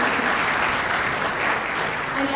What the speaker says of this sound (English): But can we also give them a very, very big round of applause?